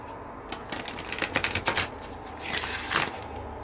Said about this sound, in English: let's take the oracle deck and shuffle it